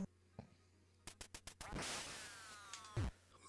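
Duck Hunt video game sounds: a run of sharp shot-like cracks, then a rising whoosh and a few nasal electronic quacks, with the game's steady low hum underneath and no talking.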